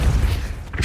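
A Depulso spell cast in the video game Hogwarts Legacy, a brief deep whooshing boom that rumbles low and fades out quickly.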